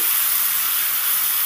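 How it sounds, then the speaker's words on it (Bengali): Okra fries with salt and turmeric in hot oil, giving a loud, steady, close sizzle that barely changes as it is stirred. "লবণটা দিয়ে সুন্দর করে ভেন্ডিগুলোকে নেড়ে চেড়ে ভেজে নেব।"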